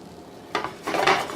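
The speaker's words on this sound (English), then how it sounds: "And we dump them in, mix them all together" Noodles tumble into a pot of corned beef stew and get stirred, with a soft splash followed by a few scraping clinks of a utensil against the pot.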